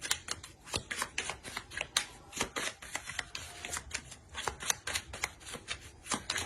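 Oracle cards are shuffled by hand in a rapid run of crisp riffling flicks and slaps, close and steady throughout with no talk.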